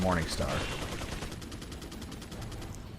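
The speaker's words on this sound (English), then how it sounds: "Oh no, he's shooting at me." Gunfire in Resident Evil 4, a quick crack of shots followed by a fading rattle, with a voice talking briefly at the start.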